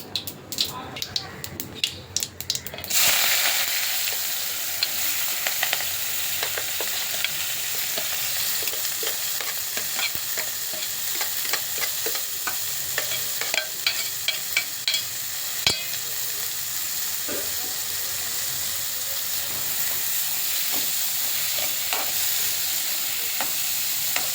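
Ginger, garlic, onion, green chilli and curry leaves sauté in hot oil after mustard seeds pop, giving a steady close sizzle with scraping stirs throughout; a brief spatter opens it and a voice talks over the frying.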